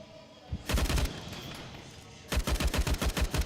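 Rapid bursts of Glock pistol fire during a Counter-Strike match, two clusters of sharp repeated shots separated by a quieter pause, fairly close and loud with no talk over them.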